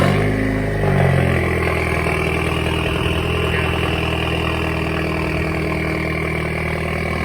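Volkswagen GLI with a catless CTS downpipe, idling with a loud, steady engine drone and audible turbo whine, a brief rev at the start, close up and without talk.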